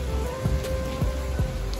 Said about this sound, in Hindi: दिखाता हूँ आपको कितनी तेज बारिश हो रही है।